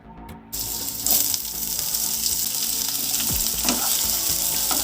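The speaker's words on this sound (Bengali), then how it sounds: "এবার আমি তেলের মধ্যে দিয়ে দেব কেটে রাখা আলুর টুকরোগুলো" Potato pieces drop into hot oil seasoned with black cumin and start frying, with a sudden loud burst of sizzling that settles into a steady, close crackle.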